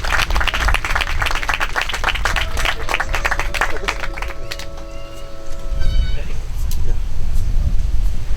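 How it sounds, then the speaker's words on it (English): A crowd at a community gathering claps in a dense, continuous round of applause. The clapping thins midway as a high tone and voices come through, then swells again with people talking underneath. "give them a round of applause"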